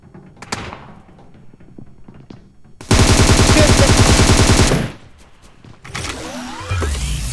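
Automatic gunfire in the video game PUBG, a loud sustained burst of rapid shots lasting about two seconds, preceded by scattered thumps and followed by quieter game noise.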